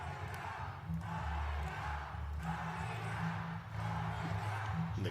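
A New Japan Pro-Wrestling arena crowd roars in a steady, distant wash of cheering and chanting during an Okada match, with rhythmic swells and brief dips, no clear voices on top.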